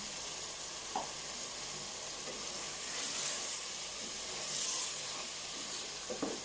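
Long-cut potatoes sizzle and hiss steadily in a pan of cooking keema, a continuous frying crackle with occasional soft stirring knocks and swells of steam.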